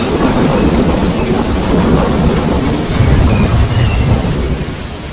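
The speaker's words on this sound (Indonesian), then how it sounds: "Kilat dan petir menyambar-nyambar." A heavy thunderstorm: dense, loud rain pours continuously while low thunder rumbles underneath, with no voices present.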